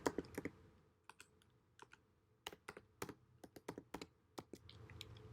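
Quiet, close typing on a computer keyboard, a string of sharp irregular key clicks with brief pauses between bursts and no voices.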